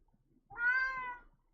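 A single drawn-out meow from a house cat, close and clear, rising then fading over about a second against a quiet room.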